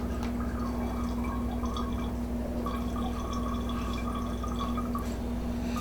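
Homemade strawberry cordial drips and trickles through a strainer into a container below, a continuous close liquid patter with a steady low hum behind it.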